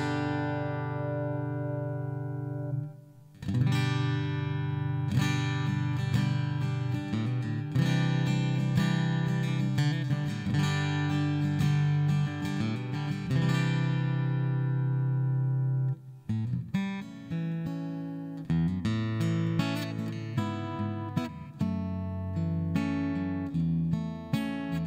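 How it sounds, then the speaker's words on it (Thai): A Clipson Hummingbird acoustic guitar with a piezo pickup plays strummed chords through a NUX Stageman II AC-80 acoustic amp. The chords ring full and sustained, with a short pause near the start and a fresh strum around sixteen seconds. "ต่อไปเป็นเสียงคลิปสัน Hummingbird นะครับเป็นเปียโซนะครับเปียโซอาจจะต้องตีคอร์ดนิดนึงนะครับ"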